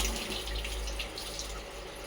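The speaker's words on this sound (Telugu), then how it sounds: "మొహం కడుక్కుంటున్నావా కడుక్కు" Water runs steadily from a tap while someone washes their face, a quiet continuous splashing stream with no talking.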